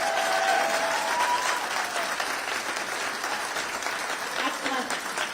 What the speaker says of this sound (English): Can we have a round of applause for all the...